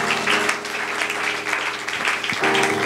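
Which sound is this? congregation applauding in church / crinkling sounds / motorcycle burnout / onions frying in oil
congregation applauding in church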